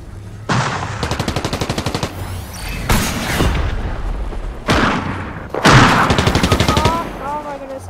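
SMG fire in Fortnite, several sharp rapid bursts of close, loud shots separated by short pauses, with a voice heard briefly between them.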